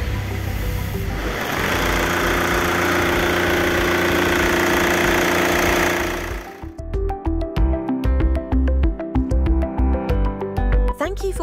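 An Opel Frontera with a Bosch PSG16 emulator, fitted after an injection pump replacement, runs at a loud, steady idle for about six seconds after being started by bridging the starter relay; music then takes over.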